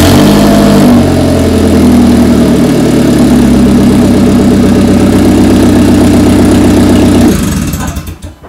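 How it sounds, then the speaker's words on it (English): A car parked in a garage after nearly two years, exhaust not hooked up, runs loud and close with a steady droning idle, then cuts off near the end. "The car gets started."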